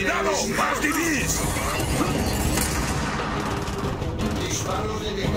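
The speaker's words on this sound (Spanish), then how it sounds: "Disparos detectados." Dense, continuous gunfire and explosions from Gears of War 4 fill the clip, loud and chaotic, with Spanish voices shouting beneath the barrage.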